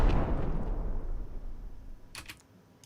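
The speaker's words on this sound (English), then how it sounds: "So this is the normal explosion." A game explosion sound effect built in Fmod and Unity: a loud low boom that swells and rumbles off over about two seconds, with a few short crackling bursts near the end.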